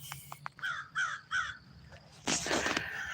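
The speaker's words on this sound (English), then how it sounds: "Those are actually crows on that tree." Crows perched in a tree give a handful of harsh caws at moderate distance, a few short single calls followed by a louder burst of cawing near the end, outdoors before a storm.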